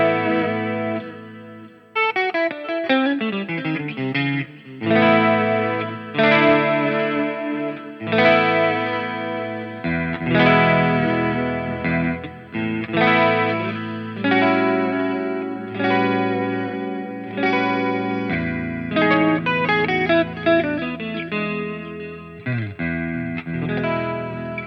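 Electric guitar played through a Line 6 POD Go with delay and a driven amp tone, a run of melodic picked notes and chords with repeats trailing after each phrase, steady and prominent with no talking.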